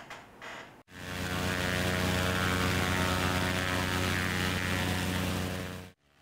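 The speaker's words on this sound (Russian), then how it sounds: "Первый самолет Ан-2 вылетел в Псху" An Antonov An-2 propeller biplane drones loudly and steadily for about five seconds, a dense, even engine and airscrew roar that starts and stops abruptly.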